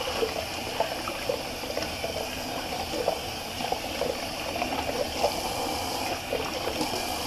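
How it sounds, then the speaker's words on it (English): A shaving brush rinsed under running tap water, a steady close splashing and trickling stream lasting throughout with small bubbling bursts and no talk. "let me just quickly rinse this out so I can show you the awesome knot in that brush."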